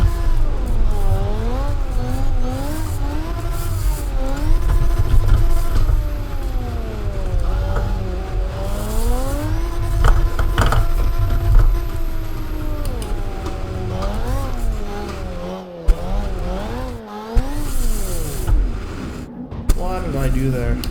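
Car engine revving and shifting pitch while drifting in the CarX Drift video game played on a Logitech G29 wheel, with tire squeal, loud and continuous, under someone talking.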